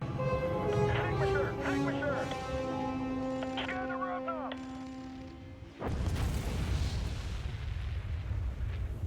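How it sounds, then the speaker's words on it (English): A heavy bomb strikes a city in Spore, a sudden deep boom about two-thirds through that swells into a long, broad roaring rumble, following a stretch of tonal game music and warbling synthetic creature sounds. "our commanders made a bold decision: to drop a heavy bomb on the city"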